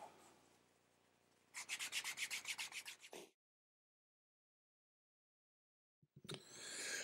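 Wax canvas is rubbed briskly back and forth against the edges of a leather wallet, producing a quick series of close, rasping strokes, followed by silence and then a brief renewed rub.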